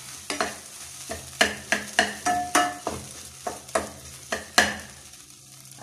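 A spoon stirring flattened rice and potato upma with fried cashews and raisins in a pan, a steady run of scraping strokes over a faint sizzle, close and distinct.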